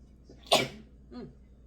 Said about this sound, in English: I've been waiting for that sneeze for a half an hour.